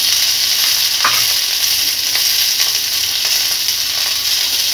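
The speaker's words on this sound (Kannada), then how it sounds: "ಬೆಳ್ಳುಳ್ಳಿ ಹಾಕ್ತಾ ಇದ್ದೀನಿ" Garlic frying in a pan gives a steady, close sizzle throughout, with a brief clink of stirring early on and no voices.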